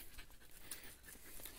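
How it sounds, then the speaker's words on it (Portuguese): A hunting dog pants after arriving during a lizard hunt after rain, quick, soft breaths heard faintly at close range over a quiet outdoor background. "Cachorro aí chegou."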